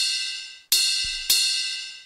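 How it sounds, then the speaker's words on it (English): Ride cymbal bell sample from a vintage Alesis HR-16 drum machine, struck twice in close succession, each bright metallic ping ringing out and decaying, alone and fairly loud. "Ride cymbal bell."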